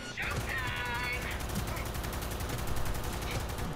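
Automatic gunfire in the video game Cyberpunk 2077, a steady, dense stream of rapid shots filling the whole stretch at moderate volume, with a brief higher mechanical whine near the start.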